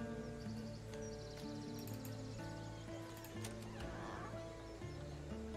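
In the video game Legends of Aria, a horse whinnies and its hooves clop faintly, heard quietly over sustained game music tones.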